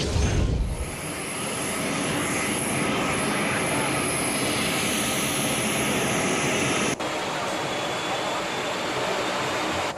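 Airbus A400M military transport aircraft with its engines running loud and close, a steady broadband turboprop roar that holds for the whole stretch after a quick rise at the start.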